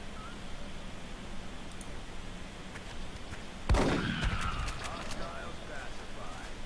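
A single gunshot in the turn-based strategy game XCOM: Enemy Unknown, a sharp burst with a brief ringing tail over steady game background hiss.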